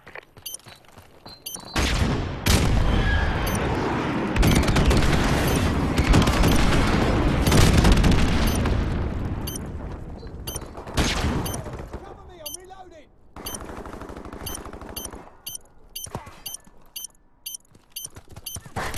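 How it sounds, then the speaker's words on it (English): Explosions and gunfire from a friendly airstrike in Call of Duty: Modern Warfare Remastered: dense, loud bursts of booms and rattling shots that roll on for several seconds, then thin out into scattered cracks and clicks. "Friendly airstrike on the way."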